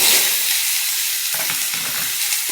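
Bottle gourd hits hot oil tempered with dried chilli and black cumin, giving a loud, steady sizzle and hiss close by, with a few soft stirring scrapes near the end and no voices.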